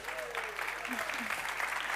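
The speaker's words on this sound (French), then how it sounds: "Donc, s'il vous plaît, applaudissements encore." An audience applauds steadily and fairly quietly, a dense patter of clapping throughout, with a voice speaking over it.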